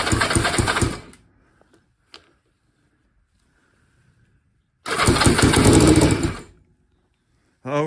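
A BSA Fury SS E35SS motorcycle engine roars loudly and close for short stretches, about one second and then nearly two, with near silence between and another brief burst at the end.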